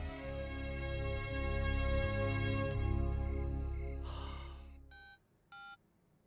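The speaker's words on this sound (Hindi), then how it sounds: "गुप्ता जी का फोन था" A loud, steady electronic hum with a sustained tone is cut off, followed by two brief beeping bursts like a phone signal.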